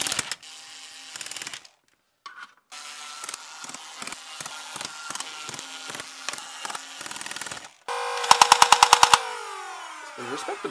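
A Nerf Stryfe blaster with an XSW full-auto kit mod fires down a hallway in rapid mechanical bursts, flywheels whirring between clattering pusher cycles, ending in a sharp fast string of shots, close and loud.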